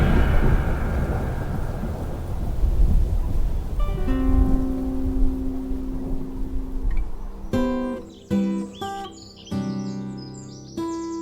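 A heavy night thunderstorm with rain, used as a horror-story sound effect: deep rolling thunder rumbles over the rain, then gives way to bright tonal chirps and music-like notes toward the end.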